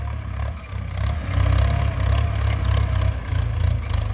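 A Ford tractor engine drones steadily while ploughing a field, a loud, close, rhythmic low throb with no voices.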